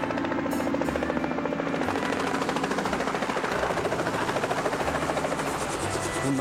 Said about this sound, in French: Il y a un hélicoptère.